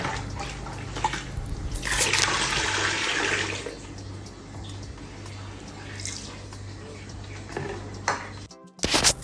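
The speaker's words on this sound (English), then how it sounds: "So you mix everything together like this" Kunun zaki, a Northern Nigerian millet drink, being mixed with sugar in a bowl: a wet sloshing, stirring swirl that swells for a couple of seconds, then continues more softly over a steady low hum.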